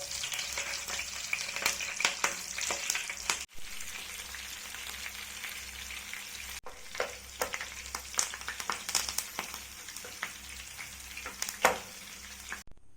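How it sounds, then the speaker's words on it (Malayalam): Three green chilies and a handful of curry leaves fry in hot oil for a Kerala-style BDF, with a continuous close sizzle and irregular crackles and pops as they are stirred. "ഇനി നമുക്ക് 3 പച്ചമുളകും കുറച്ച് കറിവേപ്പിലയും ഇത് എണ്ണയിൽ തന്നെ ഒന്ന് ഫ്രൈ"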